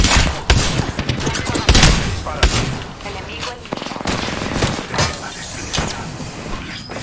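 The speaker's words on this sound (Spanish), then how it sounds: "Me disparan." Incoming gunfire aimed at the player in Apex Legends, loud rapid automatic bursts and sharp single cracks in quick irregular succession, with a voice talking faintly underneath.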